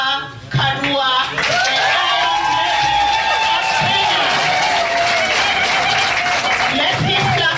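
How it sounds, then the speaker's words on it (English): An audience claps steadily in sustained applause, with cheering and crowd noise, as a woman politician walks up to the stage. A voice calls out over the clapping near the start. "Let's keep clapping until she gets to the stage."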